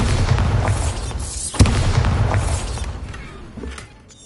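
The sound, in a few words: Bombarda spell explosion in a Harry Potter video game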